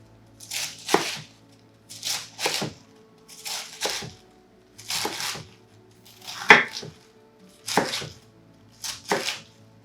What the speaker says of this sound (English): So all I'm going to do is just cut these about